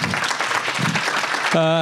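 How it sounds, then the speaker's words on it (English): Audience applause for a founder after a startup pitch at a Founder.University event, a short dense burst of clapping mixed with voices, then cut off. "Let's give him a big round of applause."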